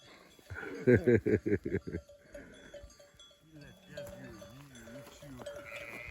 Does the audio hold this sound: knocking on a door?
no